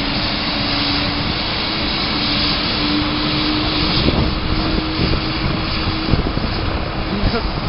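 Firefighting helicopter flying overhead during a blaze at Moscow City, a steady broadband rotor and engine roar filling the whole clip with a faint tonal hum, while people talk nearby.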